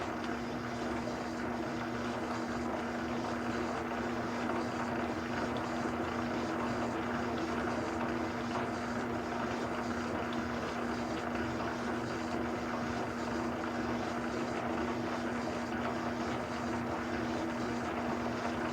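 A Harley magneto spins on a test stand, cranked up to 125, producing a steady, loud mechanical drone with a constant low hum that holds unchanged for the whole stretch, with no voices.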